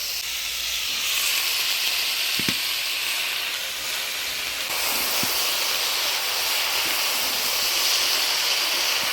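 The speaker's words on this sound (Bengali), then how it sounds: "আলু বেগুনটা ভাজা ভাজা করে নিলাম, এবার দিয়ে দেবো পালং শাক।" A steady, loud sizzling hiss of potato and eggplant frying in a pan, continuous throughout with a couple of faint clinks, no voices.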